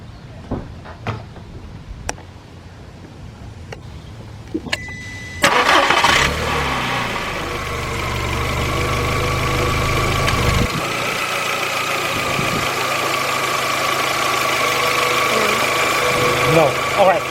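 A 2002 Volkswagen Beetle with a 2.0 engine and overheating trouble cranks and catches after a few faint clicks and knocks, then settles into a steady, loud idle with a hum that continues to the end.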